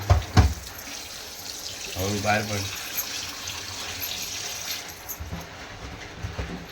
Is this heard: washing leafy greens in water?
yes